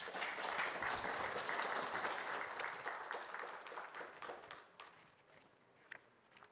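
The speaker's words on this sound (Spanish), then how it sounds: "Un aplauso," A conference audience at a mineral processing and extractive metallurgy technical session applauds after a presentation, a full burst of clapping that gradually thins and fades toward the end.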